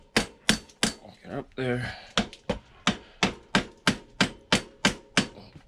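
Rubber mallet whacking a dirt bike rear wheel to slide the axle and adjust the chain: a steady run of sharp, evenly spaced knocks, about a dozen, close and loud, with a brief spoken line partway through.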